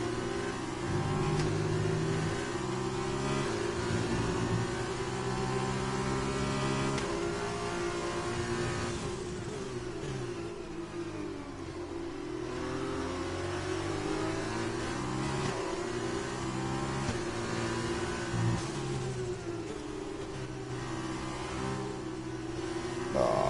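An F2 race car engine in F1 2020 revs steadily and loudly, rising and falling through gear changes across the whole stretch with no talk over it.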